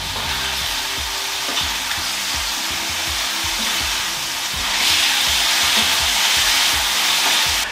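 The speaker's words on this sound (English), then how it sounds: "After about 2 minutes, we can give it a quick stir around the pan." Marinated chicken fries in a pan for a chilli chicken ramen, a loud continuous sizzle with scraping and rustling stir strokes throughout, swelling louder near the end.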